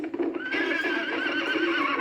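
Horses on a ride back to a palace in Paris give a loud, drawn-out whinny that rises and wavers over a backdrop of clip-clop hooves, close and prominent with no talking.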